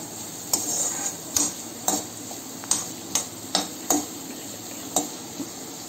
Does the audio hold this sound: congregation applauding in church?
no